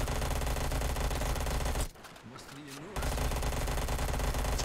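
An FFAR rifle fires in Black Ops 3 custom Zombies, a dense, loud rapid-fire rattle that breaks off for about a second before resuming, with a faint voice in the brief gap.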